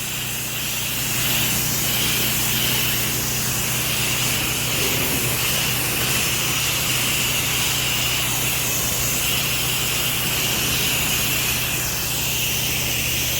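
Soft wash equipment sprays a bug-covered stucco house near a lake in Kissimmee, Florida, a steady loud hiss of spraying over a constant low pump hum, no talk.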